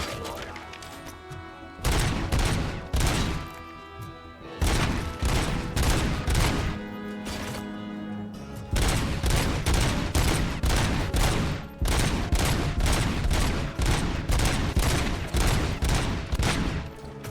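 Enemy gunfire in the RoboCop: Rogue City video game: dense, loud volleys of rapid shots and bursts that keep overlapping, with brief lulls between clusters, and no voices.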